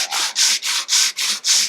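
Sandpaper wrapped on a sanding block rubbing over a canvas frame in six quick, even back-and-forth strokes, a close, loud, gritty swish with no talking.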